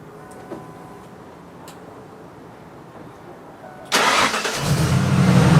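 A Ford Bronco engine, fault code 211, cranks and starts after a few seconds of faint ticking, then settles into a loud, close, steady idle.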